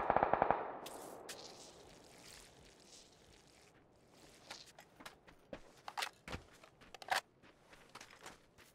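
Bursts of gunfire in the battle royale game PUBG start with a loud opening volley, then scattered sharper shots and footstep-like clatter at varying distances, with no talking.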